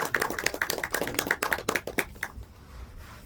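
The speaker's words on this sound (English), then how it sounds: "But big applause for Krishangi" A small group applauds a guest named Krishangi at a Bhagavad Gita class, giving a short burst of close, sparse hand claps that fades into quiet after about two seconds.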